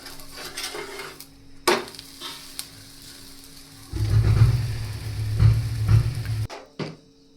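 A green onion paratha roasts with oil on a pan, giving a low, crackling sizzle in the middle stretch. Clinks of utensils against the pan come before and after.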